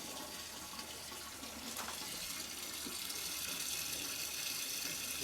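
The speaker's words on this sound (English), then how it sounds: "and we just add that water in, fresh tank water," Fresh tank water runs steadily into a home beer brewing tank, a continuous close-up rush and splash of filling liquid that holds at an even, fairly loud level throughout with no talking.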